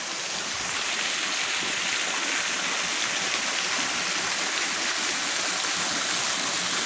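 A waterfall near a temple pours in a loud, steady rush of water that holds constant throughout, with no one talking.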